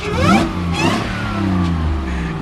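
A Jeep engine revs hard in a couple of loud bursts, then settles into a rough, throaty rumble close by.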